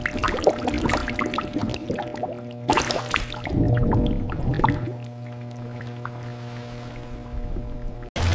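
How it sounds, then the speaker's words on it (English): Honey pours and collects into large tanks in an industrial factory, with wet dripping, squishing liquid sounds over a steady machine hum, a brief louder burst midway, continuing alone without talk. "the honey is now being collected in large tanks"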